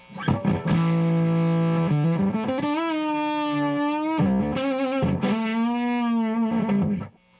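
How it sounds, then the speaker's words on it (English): Distorted electric guitar, a Sire T3 Telecaster-style, through a fuzz pedal with a thick, saturated fuzz tone, playing sustained chords and notes for several seconds, loud and alone. "and we can try a fuzz."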